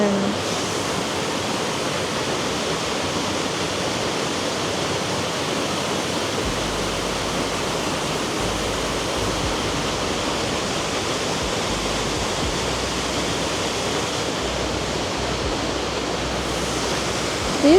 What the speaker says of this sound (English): Do you like the sound of the water? I really like the sound of water.